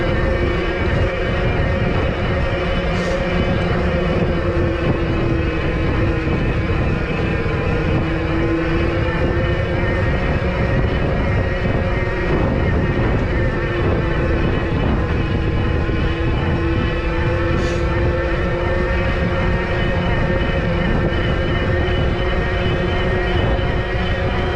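A QuietKat Jeep electric all-terrain bike with a 1000-watt motor climbs uphill, producing a loud, steady, unbroken motor whine with a sustained tonal hum mixed into rushing wind and tyre noise, nearby and continuous throughout.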